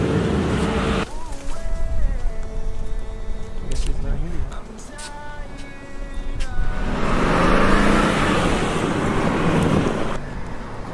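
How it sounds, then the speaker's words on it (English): A car engine revs and roars as the vehicle reverses, rising to a loud, sustained rush with wind noise, with people talking over it. "let me reverse and like rev up the engine"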